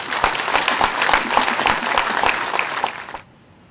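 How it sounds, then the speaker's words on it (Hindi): An audience at a spiritual talk in Chandigarh applauds loudly and steadily for about three seconds, then the clapping cuts off sharply. "तो आज के लिए, ध्यान के लिए जोरदार से तालियां बजाएंगे."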